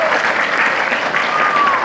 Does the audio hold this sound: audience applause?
yes